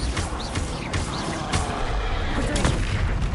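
A Bombarda explosive spell in Hogwarts Legacy goes off with sharp blasts amid continuous combat noise, several loud bursts and thuds scattered through a busy, crackling fight.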